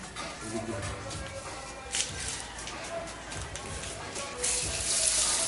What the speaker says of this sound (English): we are pouring water again